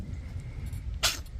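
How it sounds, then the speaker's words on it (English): A cat's short, sharp sneeze bursts out once near the end, small and close, against a quiet low background rumble. "Something's bothering her, making her sneeze."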